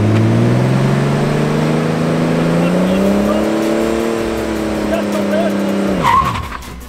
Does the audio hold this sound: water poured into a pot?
no